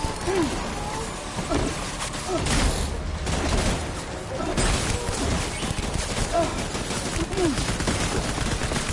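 Gunfire in the video game Death Stranding, bursts of shots and impacts layered over a dense, loud battle soundscape with game music and effects throughout.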